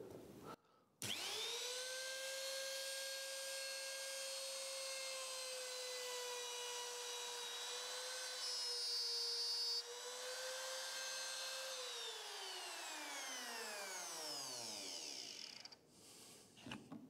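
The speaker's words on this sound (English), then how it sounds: "So that's how to use the jig with your trim router." Trim router whining steadily as it cuts a keyhole slot through wood guided by a jig, a loud sustained motor tone with rising harmonics that holds for about ten seconds before spinning down and fading, no talk.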